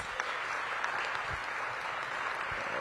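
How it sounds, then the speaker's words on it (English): Audience at a Washington, D.C. elementary school career day applauding teachers and staff, a steady round of many hands clapping at moderate, slightly distant level for the whole stretch. "Give your teachers and staff a big round of applause."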